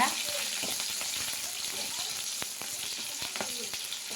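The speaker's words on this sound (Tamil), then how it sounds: "இப்போ வந்து நம்ம வெட்டி வச்சுருக்க வெங்காயமும் பச்சை மிளகாய் சேர்த்துக்கலாம் நல்லா பொன்னிறமாக வதக்கிக்கலாங்க" Chopped onions and green chilies sauté in a hot pan, a steady bright sizzle with scattered crackles and light stirring scrapes, close and continuous.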